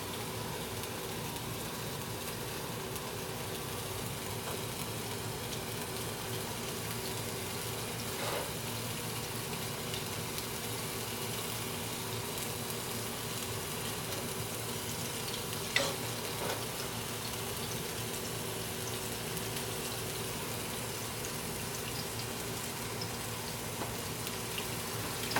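Turkey meatballs fry in a non-stick pan with a steady, even sizzle that holds for the whole stretch, broken only by a few faint clinks and scrapes.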